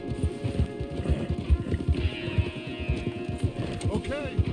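Horse hooves clip-clop in a steady walking rhythm in Red Dead Redemption 2, close and clear, with faint creaking tack and a brief whinny-like tone near the end.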